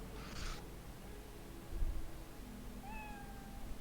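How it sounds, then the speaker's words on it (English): Cat in Cyberpunk 2077 gives a short meow near the end, a clear rising-then-falling call heard over quiet ambient game noise after a brief soft rustle. "Oh wait, you can pet a cat."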